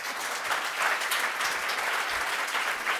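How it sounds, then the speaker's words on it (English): An audience claps for a panel at a data journalism masterclass, a dense, steady round of applause filling the room for a few seconds. "Oh, applaud them, applaud them."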